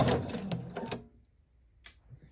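Sewing machine stitching around a stuffed fabric baby chick, a dense mechanical whirr for about a second, then quiet with a brief click near the end.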